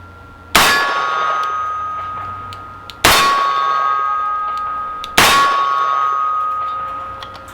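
Three loud shots from a Smith & Wesson .44 Magnum Performance Center Hunter revolver, each followed by a sustained metallic ring from a steel silhouette target at 12 yards, spaced about two and a half seconds apart with no talk.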